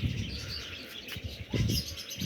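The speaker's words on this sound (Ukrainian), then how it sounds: "Ганяю, летять зараз пескуни в мене без вопросів." Pigeons of an old breed, white with tufts, fly from a loft. Soft wing flaps and coos come from nearby against a steady outdoor background.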